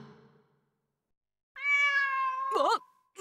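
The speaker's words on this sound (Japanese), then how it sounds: "猫？" A cat meows once in a clear, close, drawn-out call with a wavering ending, heard alone in a quiet scene from the video game Demon Slayer: The Hinokami Chronicles.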